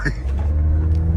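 A stock Toyota Corolla Altis 1.8 with factory wheels and exhaust, remapped for E20 fuel, accelerating with the air conditioning on, giving a steady deep engine rumble from inside the car, briefly preceded by a voice.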